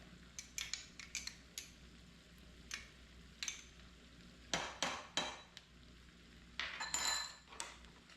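Tomato paste being worked into a cooking cream sauce brings a series of quiet scraping and clinking strokes from a utensil against the pan, with irregular bursts over a faint background simmer; no talking.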